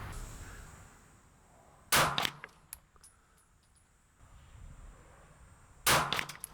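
Two sharp, loud P-10S pistol shots fired with Atlanta Arms ammunition at an outdoor range aimed at 100 yards, spaced about four seconds apart, each a crisp crack with a short ringing tail over faint wind noise.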